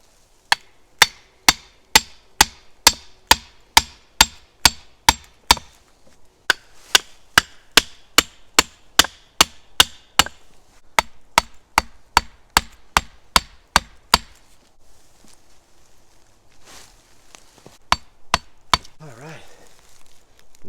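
Wooden stakes for a bushcraft raised bed are driven into the ground with a long run of sharp, evenly spaced hammer blows, a short pause midway, then a few final strikes, close and crisp with little else around.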